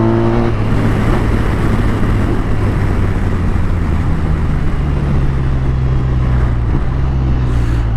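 BMW R1250RT police touring motorcycle being ridden through corners, a steady, close engine drone with shifting pitch under constant wind rush for eight seconds, with no talk.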